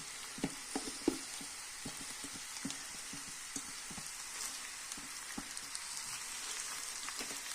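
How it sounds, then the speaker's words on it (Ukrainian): Steady sizzling of grated boiled beetroot frying in a pan, with soft scattered pops and crackles throughout, fairly quiet and close. "Тепер натертий цей буряк додаю сюди у сковорідку."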